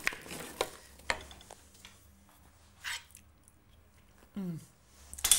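Someone chews and tastes a buttery potato comfort dish in a home kitchen, giving a few soft, wet mouth sounds and squishy bites at close range, with quiet kitchen noise between them and no speech.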